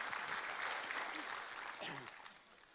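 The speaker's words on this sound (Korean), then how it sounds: "우리 하나님께 감사와 영광의 박수를 드리겠습니다." Church congregation clapping together during a Sunday worship service, a soft, dense wash of applause heard from a distance that fades slightly toward the end, with faint voices mixed in.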